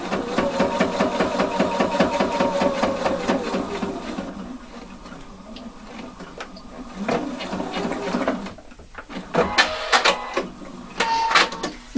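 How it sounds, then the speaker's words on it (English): A sewing machine stitches a fake double welt pocket with a fast, even mechanical run for several seconds, then stops, followed by scattered handling clicks and knocks. "now I'm stitching in the middle of these"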